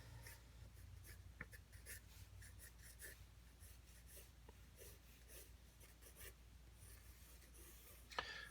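A pencil sketches a skull on paper, giving soft, steady scratchy strokes in short repeated bursts, close up and quiet with no talk.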